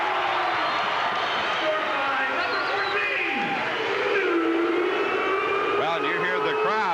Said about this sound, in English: you hear the crowd as they help out with the call